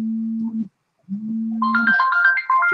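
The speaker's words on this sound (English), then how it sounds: "Uh-oh, the phone's ringing." A telephone ringtone plays, starting with two steady low tones and then breaking into a quick, higher melodic run of beeps.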